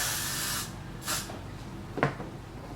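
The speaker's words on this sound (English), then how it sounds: "I could spray a little of my Got To Be glue." Two short hissing bursts of Got To Be hair glue spray, one at the start and another about a second later, followed by a faint knock, close and fairly quiet.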